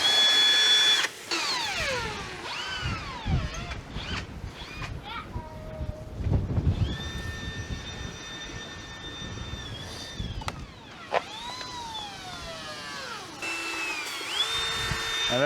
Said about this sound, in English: Put your drill in there and start mixing.